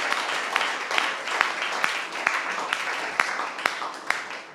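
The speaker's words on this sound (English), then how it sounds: "give him a big applause" Studio audience at a comedy talk show breaking into sustained applause, dense steady clapping with a few sharper claps standing out, filling the room without talk.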